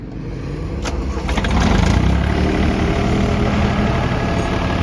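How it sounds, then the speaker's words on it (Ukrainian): Yanmar diesel tractor engine starting and then idling, loud and close: a crank followed by a steady, even chug that holds for several seconds without speech. "Ви почуєте неперевершену роботу янмарівського двигуна."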